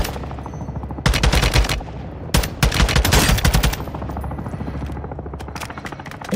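In the Call of Duty: Modern Warfare II video game, rapid automatic gunfire hits teammates in two loud bursts over a steady rotor-like engine drone.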